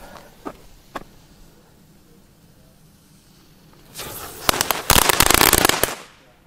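Quiet crackles at first, then a dense burst of loud fireworks explosions and crackling bangs erupting in rapid succession near the end.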